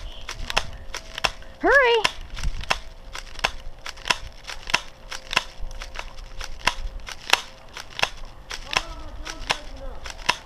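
Airsoft guns firing covering fire outdoors, a steady string of sharp, snappy pops repeating roughly every half second, loud and close, with a brief shouted word partway through.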